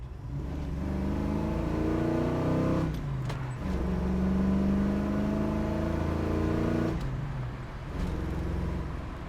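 A 1969 Chevrolet Camaro's 350 engine hums steadily, then revs up in two surges with gear-change dips between after a downshift, heard from inside the car.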